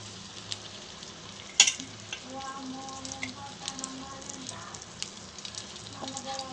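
Fish pieces frying in oil in a pan, a soft, quiet sizzle with a brief sharp clatter early on and faint scraping throughout.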